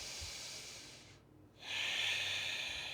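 A deep breath during a yoga session for hips and back, a long breathy exhale followed by a short pause and then a fuller, louder inhale, heard close up with no talking.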